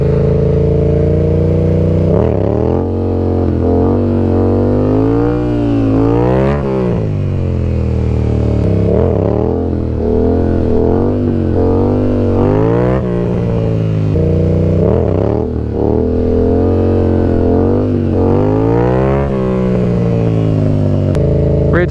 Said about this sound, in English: I'm gonna let this engine get hot.